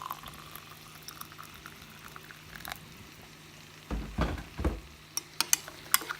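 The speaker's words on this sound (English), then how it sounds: "I'm just going to add in the chicken stock there and half fill the cup with boiling water." Boiling water poured from a kettle into a cup holding chicken stock, a faint background hiss followed by a short burst of splashing liquid and a few small clinks near the end.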